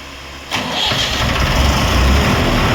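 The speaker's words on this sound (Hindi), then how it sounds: "देखिए मैं आपको मैनुअल वाले मोड से जनरेटर स्टार्ट करके दिखाता हूँ।" A 15 kVA open generator is started in manual mode: quiet at first, then after a brief crank the engine catches and settles into a loud, steady running drone close by.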